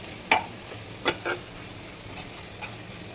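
Food being stirred and fried in a pan gives a few sharp scraping clinks of a spatula over a soft background sizzle, close and fairly quiet.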